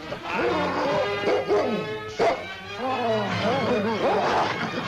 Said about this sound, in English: Just like a Mountie to hide behind a vicious dog like that.